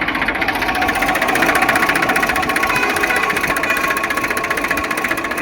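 A 2015 Eicher 380 tractor engine idles steadily up close, a dense, even diesel rumble with fast pulsing vibration and no voices.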